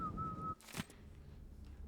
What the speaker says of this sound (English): You hear that casual whistling for someone